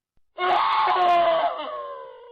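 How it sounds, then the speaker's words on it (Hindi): A single sustained, loud human scream of terror in a horror story setting, rising abruptly and holding for about two seconds before tapering off, heard alone with no talk. "करीब 100 मीटर अंदर जाने के बाद विकास की चीख गूंजी।"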